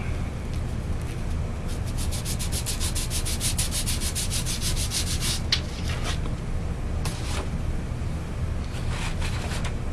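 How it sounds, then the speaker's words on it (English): A model rocket launch lug is sanded by hand, with steady abrasive rubbing and a run of rapid, evenly spaced back-and-forth strokes in the middle, close up and without speech. "So you're supposed to sand it a little bit."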